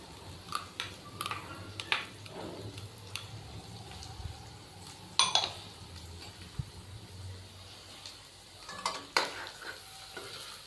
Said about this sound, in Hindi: यहाँ पे हम इनको अच्छे तरीके से मिक्स करेंगे और 1 मिनट के लिए हम सारी सब्जियों को अभी फ्राई कर लेंगे।